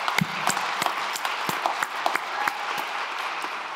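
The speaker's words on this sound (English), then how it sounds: "give yourself a round of applause" Congregation applause at a church worship service, a steady wash of many hands clapping at moderate distance with scattered sharper claps standing out, sustained for a few seconds without talk.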